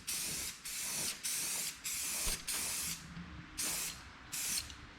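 Aerosol spray paint hisses in a series of short bursts onto a zero turn mower, about eight separate blasts with brief pauses between them, close and loud with no talking.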